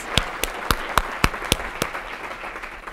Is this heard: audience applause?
yes